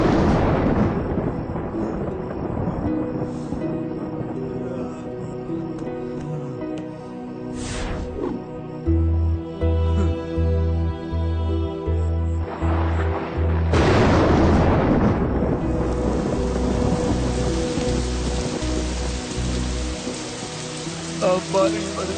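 Rain beats steadily on a surface, and deep booms of thunder roll through the middle and later part, all under a layer of background music.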